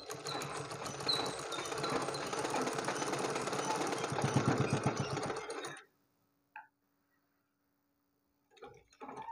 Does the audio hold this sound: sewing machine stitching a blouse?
yes